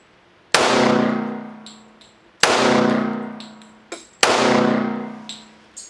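Three rounds from an Ed Brown Custom Special Forces pistol fired in the dark, each a loud sharp report ringing off in a long decaying tail, evenly spaced about two seconds apart.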